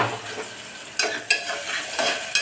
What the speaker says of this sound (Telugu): వేగుతున్న ఉల్లిపాయలు ఇంకొంచెం వేగనిద్దాం